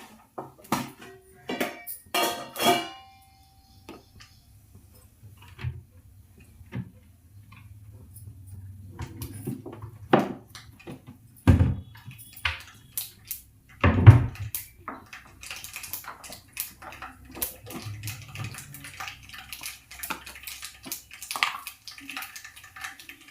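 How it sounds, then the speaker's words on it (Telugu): Mustard seeds hit hot oil in a pan after cumin for tempering, crackling in sparse, scattered pops alongside occasional metal clinks of pan and spoon, mostly soft with a few sharper snaps. "ఆవాలు వేసుకుందాం."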